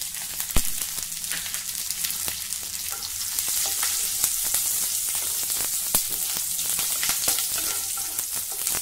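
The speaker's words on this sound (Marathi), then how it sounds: "हे तूप गरम झालं की त्यामध्ये चिमूटभर जिरं घालूया." Cumin seeds sizzle in hot ghee, a dense steady crackle with frequent sharp pops scattered across it, close and fairly loud.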